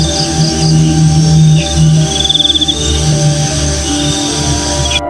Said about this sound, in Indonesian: suara jangkrik samar dari kejauhan